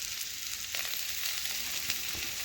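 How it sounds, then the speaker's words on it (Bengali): Cut potatoes sizzling steadily in hot oil in a pan, seasoned with salt and turmeric powder, a close, continuous crackle with a few small spatters and no voices. "এখন ওই তেলেই আমি আলু কেটে রেখেছিলাম, আলুগুলো ভেজে নিচ্ছি।"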